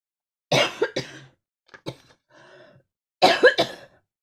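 Several harsh coughs in two bursts with a quieter pause between, close to the listener, with a faint throat-clearing sound in the middle.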